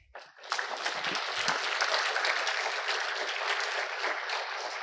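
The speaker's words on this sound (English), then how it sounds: "Let's give him a second round of applause." Audience applause after a conference talk on logging for Django developers, a broad, even burst of clapping that rises quickly and continues steadily, sounding fairly close.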